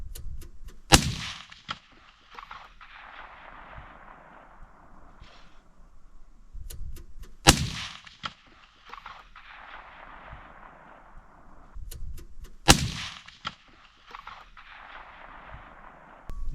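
Three loud gunshots fired through three layers of glass, spaced several seconds apart, each with a sharp crack and a long fading echo, preceded by small mechanical clicks.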